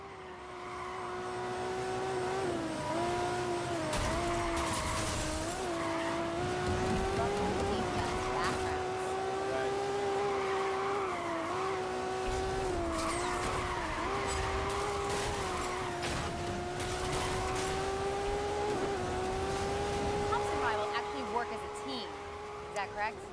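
Ferrari engine in Need for Speed Rivals racing gameplay, a continuous high revving whine that rises and dips through gear changes, with tire squeal and crashes mixed in and voices talking over it.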